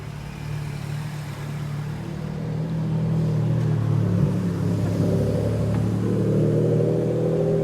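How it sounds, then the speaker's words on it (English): A Ferrari 599 GTO passes at a port, its engine a steady mid-pitched drone that swells louder midway and holds near, with no talking. "That was a 599 GTO"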